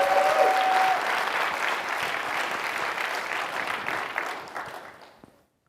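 Audience applause at a talk on LGBTQI+ rights, steady clapping from a crowd that holds for about four seconds and then tapers off into silence.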